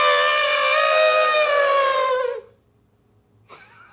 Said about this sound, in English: Do you know what sound elephants make?